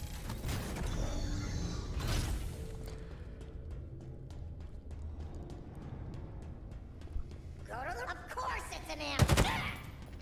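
A big mechanical door opens in the Halo Infinite campaign with heavy grinding and creaking, surrounded by game ambience, a burst of bright effects, and a loud impact near the end.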